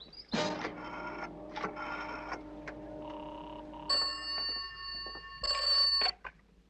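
An old-fashioned telephone bell rings indoors in a 1959 television drama, sounding in several loud, shrill bursts separated by short pauses, with faint clicks and bumps around it and no voices.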